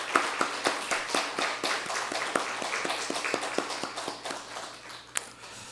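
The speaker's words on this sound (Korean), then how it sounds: "진심으로 환영하고 박수를 한번 더" A round of applause at a Sunday church service: a congregation claps steadily for several seconds, the claps close and distinct, trailing off near the end.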